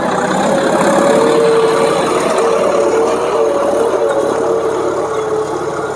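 A tractor engine runs steadily with a large cultivator working a farm field, a continuous loud drone with a faint tonal hum that holds throughout without pause.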